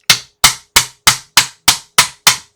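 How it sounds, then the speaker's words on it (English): Eight sharp metallic hammer blows struck in an even rhythm on the spindle of a 5 1/4 inch floppy drive during maintenance, each loud, close and quickly decaying, with no talking. "when I strike it with the hammer, the parts aren't necessarily moving the way I want to"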